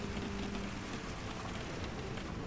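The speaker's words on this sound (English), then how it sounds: "You can hear that rain dropping too." Heavy rain drumming on car windshields in a racing video game, a dense, steady hiss of pounding drops filling the whole stretch, loud and close with no voices.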